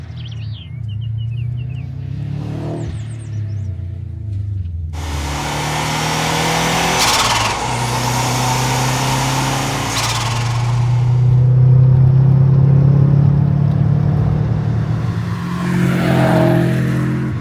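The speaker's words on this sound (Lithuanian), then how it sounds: "tai yra Subaru Forester, 98 metų, 2 litrai turbo" A 1998 Subaru Forester with a 2-litre turbo engine, close by, starts with a low idle rumble. After a few seconds it breaks into loud, sustained revving that rises and swells before easing off.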